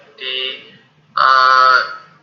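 An electronic buzzer on an Arduino motion-sensor alarm project sounds twice, a short tone and then a louder, longer one, close and harsh with a brief gap between.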